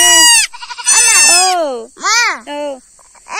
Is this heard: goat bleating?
yes